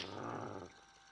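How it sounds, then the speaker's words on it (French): A dog in Fallout 3 gives a short, faint growl that cuts off abruptly, leaving quiet game ambience. "C'est un chien."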